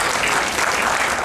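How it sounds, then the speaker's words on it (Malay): Audience applause at a university association's annual general meeting: a thick, continuous wash of clapping from many hands, loud and even from start to finish. "satu tepukan."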